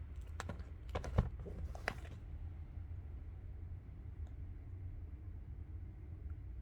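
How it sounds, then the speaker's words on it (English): Fingers tap a handful of quick, crisp keystrokes on an Apple Magic Keyboard, then stop, leaving a steady low rumble in the background. "Let's say this is Magic Keyboard. This is an Apple product."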